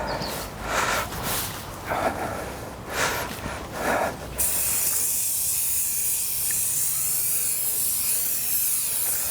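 Aerosol waterproofing spray hisses steadily onto a tent in a long continuous burst, loud and close, after a stretch of rustling and handling noises.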